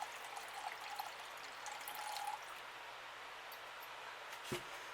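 A faint, steady trickle of liquid being poured, about 500 ml, for homemade limoncello, running softly and continuously for several seconds with a brief thump near the end.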